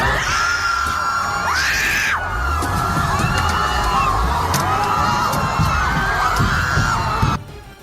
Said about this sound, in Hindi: उसके बाद तो वहां चीख पुकार मच गई